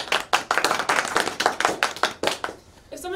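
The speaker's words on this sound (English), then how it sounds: "please give a big round of applause for Senior Tanner Boss" A small audience claps for a guest with a sharp, close patter of a few pairs of hands in uneven rhythm, fading out near the end as a voice starts.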